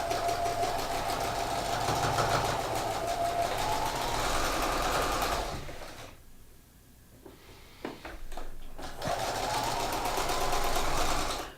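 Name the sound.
sewing machine stitching a double hem on a shirt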